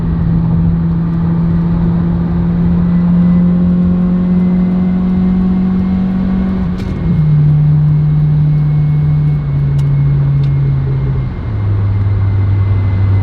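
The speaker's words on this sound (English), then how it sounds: "This is the minimal drone that I hear if I'm just coasting." A steady, loud low engine and exhaust drone from an Acura RSX with an HKS Hi-Power exhaust coasting in fourth then third gear, the pitch stepping down slightly as it settles.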